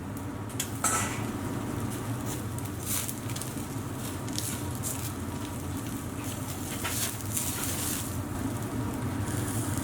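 Metal skewers of Persian saffron chicken wings are flipped on a hot grill, giving light metallic clinks and scrapes over a steady, dense sizzle that runs through the whole clip.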